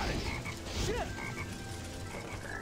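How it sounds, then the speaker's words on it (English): A frog croaks in the video game Sonic Heroes, a few distinct rubbery croaks over a busy game background, close and fairly loud, with no one talking. "Yeah, there's a frog here again."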